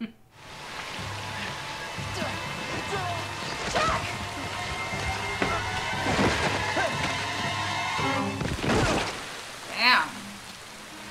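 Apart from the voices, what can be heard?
heavy rain in TV show Lost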